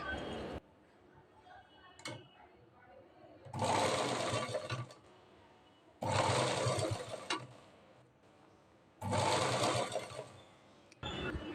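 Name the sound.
sewing machine stitching piping onto a blouse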